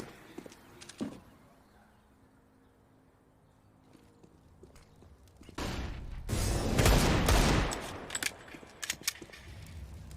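Counter-Strike match gunfire from a pro esports game, scattered isolated shots and clicks giving way to a dense burst of rapid fire and impacts in the second half, fairly loud.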